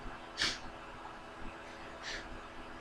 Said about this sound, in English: I'm getting the sniffles.